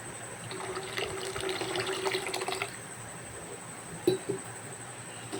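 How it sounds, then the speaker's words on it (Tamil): Water poured into ground masala for tomato gravy, a soft trickling pour for a couple of seconds followed by quiet stirring and a small splash, faint and close. "உங்களுக்கு எவ்வளோ தண்ணி வேணுமோ ஊற்றி டைல்யூட் பண்ணிக்கோங்க"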